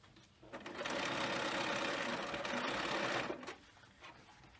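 A sewing machine stitches the sides of a fabric frame bag through several layers, one continuous rapid run of needle strokes lasting about three seconds, close and clear, with brief quiet before and after.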